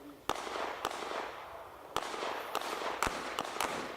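Pistol shots fired at targets during an IDPA shooting match, heard as about seven sharp reports spaced irregularly over a steady noisy background, some louder than others, fairly close.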